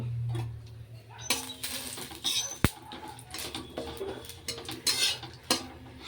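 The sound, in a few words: stirring bay leaf, cardamom and cloves in ghee in a wok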